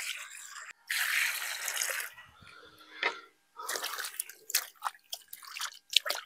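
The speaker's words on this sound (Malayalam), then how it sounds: "അപ്പൊ നമുക്ക് ചിക്കൻ ഒന്ന് കഴുകിയിടുക കേട്ടോ." Raw chicken pieces being rinsed under running tap water in a kitchen sink, with bursts of splashing and trickling water broken by short pauses and drips, fairly close and moderate in level.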